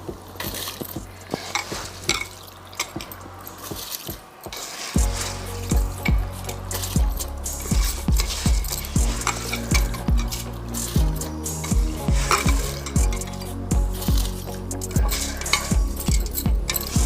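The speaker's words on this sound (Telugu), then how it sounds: "ఇప్పుడు ఈ బియ్యం ఇందులో వేసేద్దాం." Washed, drained rice tipped into a pot of boiling water for bagara rice, with clattering, stirring and bubbling close by over steady background music.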